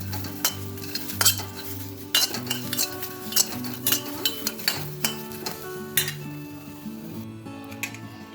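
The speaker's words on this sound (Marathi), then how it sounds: "इथे हिरवी मिरची आणि लसूण आपण थोडासा परतवून घ्यायचा आहे म्हणजे भाजून घ्यायचं आहे" Green chillies and garlic roasting in a pan, bright metal scrapes and clinks of a spatula recurring every second or so over a gentle sizzle, with a faint tonal hum throughout and no voices.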